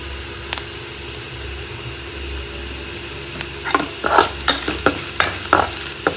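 Turmeric frying in a pan of tempering with curry leaves hisses in a quiet, even sizzle, then bursts into a cluster of louder crackles and pops toward the end.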